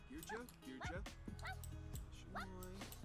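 Dogs in the video game Sims 4 bark and yip repeatedly and close by, with whimpering, rising calls over a game music background, and a voice talks through it.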